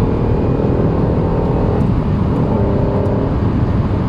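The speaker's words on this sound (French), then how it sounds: "c'est le bruit de base de la NSX et en fait le VTEC se déclenche qu'à 5500 tours." A Honda NSX sports car engine roars loudly and steadily from up close, a dense low rumble that holds without letting up.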